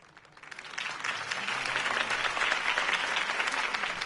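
Crowd applause from a Batman video game on PS4, a sustained wash of many hands clapping that swells in after a quiet start and holds steady and full to the end.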